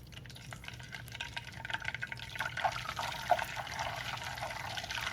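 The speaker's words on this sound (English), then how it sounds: "After the butter gets nice and brown like this, we're gonna put some ice cubes into it to add back the moisture." Ice cubes dropped into hot browned butter in a pan give a soft, crackling sizzle with scattered pops and drips that build and grow busier toward the end, with no voices.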